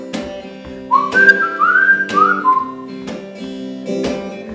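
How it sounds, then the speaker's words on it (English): A solo whistled melody, clear and close, with sliding rising notes over a steady background of held musical tones. "Whistling solo, should we have that?"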